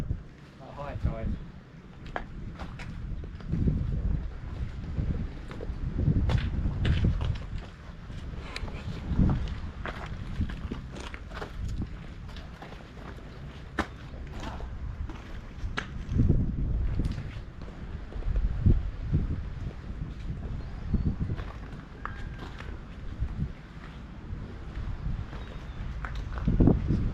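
Wind buffets a microphone in gusts at Grain Tower, a sea fort in tidal water, a low rumbling roar that swells and fades steadily through the whole stretch, with a few faint knocks and possible footsteps beneath it.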